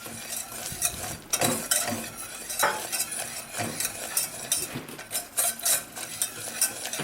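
A spoon stirs butter into caramelized agave in a cooking pot, making repeated scraping clinks against the pot over a soft sizzle. The stirring is close and steady, with no talking.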